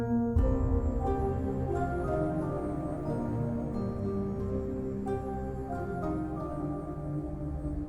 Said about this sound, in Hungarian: Az egyik legjobb dolog a játékban mindig is a rendkívüli hozzáértéssel megalkotott zene volt.